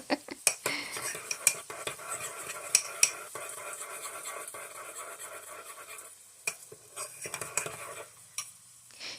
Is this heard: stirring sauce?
yes